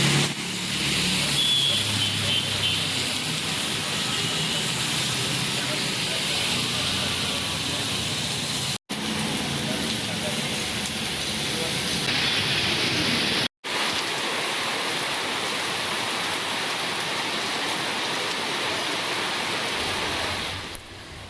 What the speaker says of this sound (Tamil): தற்போது நகரின் பல்வேறு பகுதிகளில் திடீர் மழை பெய்து வருகிறது